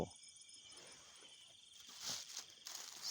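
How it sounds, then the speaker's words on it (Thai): Crickets chirp in a continuous high, steady trill, faint and close, with occasional rustling and footsteps beneath. "จิ้งหรีดร้อง เพลง ใช่ไหม"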